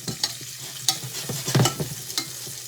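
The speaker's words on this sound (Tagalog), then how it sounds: "Gisa-gisa lang natin na dyan" Onion and lemongrass sauté in a pan, with repeated quick stirring strokes and scrapes over a continuous close sizzle at an uneven, brisk rhythm.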